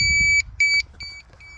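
A laser or electronic level emits repeated short, high-pitched beeps of varying length as it marks a reference point on a building renovation site, close and clear over low background rumble.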